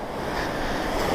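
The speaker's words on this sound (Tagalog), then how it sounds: "Lakas ng alon" Strong ocean waves wash in at Palmeras Beach in Batan, Aklan, at night, a steady, close, rushing roar with no voices.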